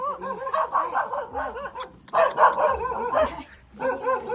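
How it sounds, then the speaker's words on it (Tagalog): Dogs bark repeatedly outdoors, a series of close, loud yapping barks in quick bursts with short pauses between them. "Dami din palang aso dito."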